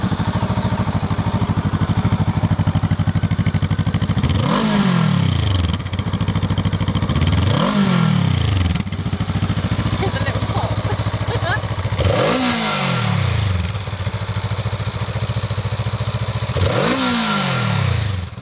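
A 2024 Honda CL500 retro scrambler idles while stationary, its engine blipped in four sharp revs that rise and fall back to a steady, loud, close idle.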